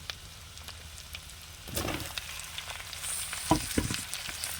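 Sliced ridge gourd sizzles in a hot pan with ginger paste, a steady crackling fry that swells as the vegetable goes in, punctuated by a few close clatters of a spatula stirring.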